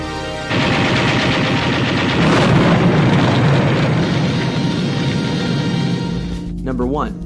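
Gunfire in a movie scene, a dense rattling burst of rapid shots and blasts that runs loud for several seconds before fading, with a voice heard near the end.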